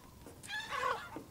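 Chickens in Resident Evil Village cluck near a village well, a few short, faint calls in quick succession.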